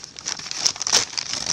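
Plastic packaging crinkles and rustles close by as scissors open a package of McDonald's Happy Meal Kung Fu Panda toys, a series of short, light crackles.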